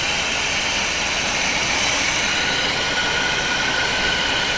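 A 1975 C3 Corvette convertible's engine, revived after 34 years of neglect and still cold, idles with a steady, loud, dense mechanical roar that holds evenly throughout with no voices.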